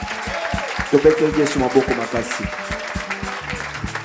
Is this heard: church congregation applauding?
yes